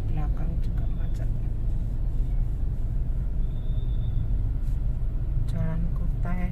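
Stop-and-go traffic jam on Jalan Kutai, Surabaya: a continuous low rumble of idling cars and buses surrounds the listener, with brief brake hisses and a horn-like tone rising now and then, and voices talking intermittently.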